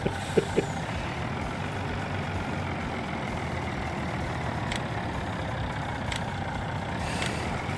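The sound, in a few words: truck engine from Farming Simulator 19 video game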